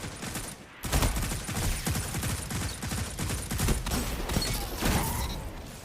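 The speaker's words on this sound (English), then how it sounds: "Keep playing that pulse rifle." Rapid bursts of pulse rifle fire in a Destiny 2 Crucible match, loud and continuous volleys layered with other game gunfire after a short lull near the start.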